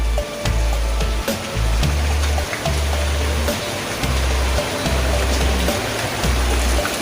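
Steady rain falling in a Wayanad forest, a dense even hiss close around the listener, with a stream-like rush and rhythmic low thumps, no voices heard.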